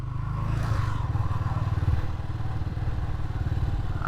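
A 1985 Honda FT 500 Ascot single-cylinder thumper rides along with a steady, close, throbbing engine beat and some rattle, holding an even pace throughout without speech.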